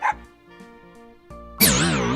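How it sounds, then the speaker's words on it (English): A dog barks and yelps in a guess-the-animal quiz: a short bark at the start, quieter tonal sounds, then a loud, wavering, drawn-out yowl near the end. "This is a dog."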